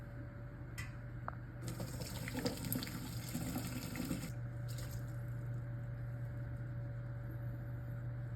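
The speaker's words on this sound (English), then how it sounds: "take a strainer, put it on top of another pot," Broth pours steadily through a strainer into a pot, a running splash that swells for a few seconds then settles into a softer trickle, close by with a low hum underneath.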